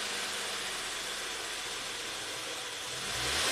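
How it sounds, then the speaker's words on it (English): A Honda Accord engine idles steadily just after starting, a low, even hum under a broad, constant hiss, with no voices. "Start the engine."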